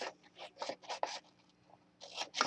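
Paper being cut for a Christmas mini album, a few quiet close scraping and slicing strokes in short bursts with a pause between them, soft overall.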